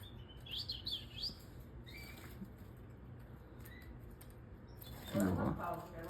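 Pet canaries chirping during a bath, with short high tweets scattered through the clip over a faint watery patter and room noise, near but not loud, and a brief louder fluttery burst toward the end.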